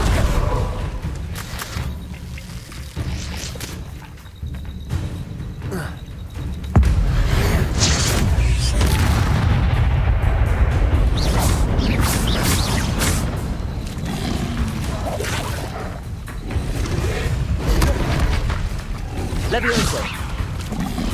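Bombarda and other spell blasts in the Hogwarts Legacy video game, a dense run of booming, crashing combat effects with whooshes and thuds layered under a player's voice, loud and continuous through the fight.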